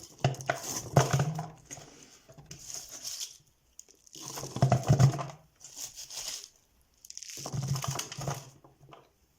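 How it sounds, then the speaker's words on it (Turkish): Crunchy, crinkling bursts of cabbage leaves being pressed and packed into a pickling jar, coming in four separate rounds with short quiet gaps. "Ondan sonra lahanamı doldurmaya başlıyorum."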